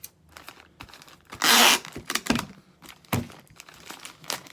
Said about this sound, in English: I'm gonna go ahead and get that guy taped. I do a little extra taping.